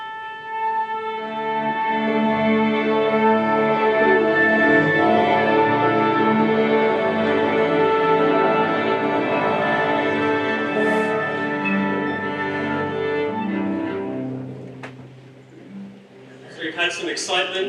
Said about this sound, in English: so she's going to retune us